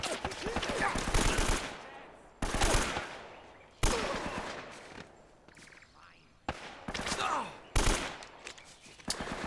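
Bursts of rapid gunfire in Uncharted: Drake's Fortune, several loud volleys separated by short pauses, with a voice speaking between them.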